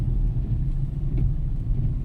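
Road traffic with many cars on a rainy afternoon near a school, heard as a continuous loud low rumble of engines and tyres close by, with no voices.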